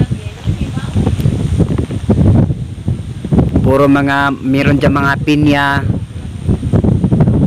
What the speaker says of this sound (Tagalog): Sobrang hangin talaga mga ka-idol.